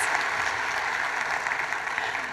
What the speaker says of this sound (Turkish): Bir büyük alkış hak ediyor bence.